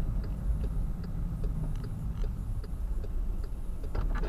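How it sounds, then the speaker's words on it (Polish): Regular ticking of a car's left turn signal, evenly spaced clicks repeating over a steady low engine hum inside the cabin. "Kierunkowskaz włączymy, lewy."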